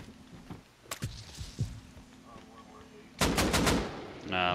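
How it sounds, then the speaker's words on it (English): Rapid bursts of automatic gunfire from base turrets in a video game raid, heard in short volleys, then a louder sustained barrage near the end. "Oh shit! There's turrets up here."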